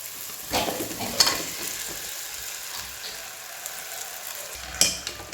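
Fried chicken and gravy for biryani simmer in a pot, a soft bubbling sizzle under a few distinct clinks and scrapes of a spoon as the mixture is stirred, with no speech.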